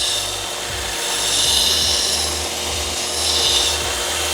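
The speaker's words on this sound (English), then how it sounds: "to put the bevel on this material, I'm gonna use the belt sander" A running belt sander grinds a bevel onto a piece of metal in a welding shop, a loud continuous abrasive roar that swells and eases as the workpiece is pressed, with no talking.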